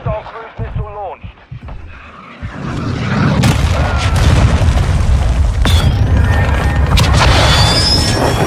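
Cruise missile blast in Call of Duty Modern Warfare 2, a loud booming explosion that builds into a sustained rumbling crash with debris and scattered game effects, following brief game voice announcements.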